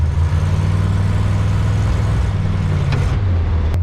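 A 1930 Ford Model A hotrod engine is gassed while trying to start, giving a loud, steady low rumbling drone close by that wavers slightly and drops briefly near the end.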